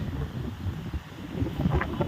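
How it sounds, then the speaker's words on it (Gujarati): Strong wind buffets the microphone with low, gusty rumbling that swells and fades throughout. "હજી પવન ભૂકા કાઢે છે"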